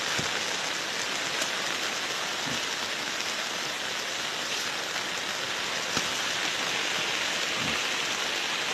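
Steady rain falls outdoors while leafy colocasia (taro) leaves are picked, a dense, even hiss of rainfall that stays constant throughout with a few faint drips.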